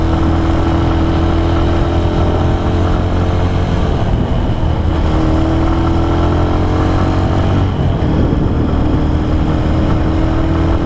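A 2011 Honda Tiger motorcycle with a SOHC engine runs steadily on a test ride, its engine note a constant close drone with slight rises and dips in pitch throughout.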